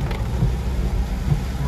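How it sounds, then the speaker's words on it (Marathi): Heavy rain pours steadily with a low, rolling rumble of thunder underneath, close and constant, with no one talking. "पाऊस काही तो पण आहे."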